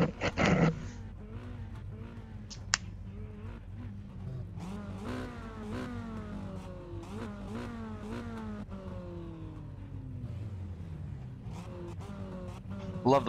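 A mini-stock race car on an oval speedway in iRacing revs and climbs through gears with a steady droning engine note that rises and falls repeatedly across the whole stretch, loud and close, with a brief burst of talk over it at the start.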